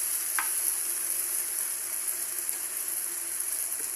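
Eggs frying in a pan for a Mangalorean-style egg roast, giving a steady, even sizzle that continues throughout with no one speaking.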